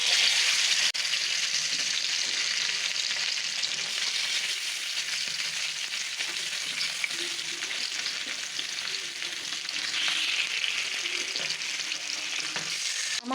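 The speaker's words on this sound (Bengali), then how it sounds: "তাওয়ার ভিতরে তেল দিয়ে তেল দিয়ে নিয়েছি তাওয়াটা কিন্তু গরম হয়ে গেছে এখন মাছগুলো এখানে দিয়ে দিব" Fish frying in hot oil on a heated tawa, a continuous close, even sizzle that holds steady with slight swells and no talking.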